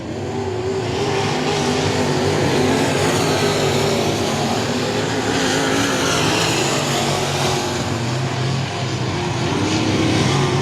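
Dirt trucks race around a Texas dirt speedway, with a steady, loud engine roar of several trucks that swells and fades as they circle the track, with no voices.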